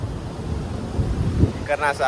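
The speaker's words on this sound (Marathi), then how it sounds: "इकडनं वारा दिसतोय." Wind gusts across Mirissa beach in Sri Lanka, buffeting the microphone in a rough, continuous roar with surf beneath, and a voice briefly heard near the end.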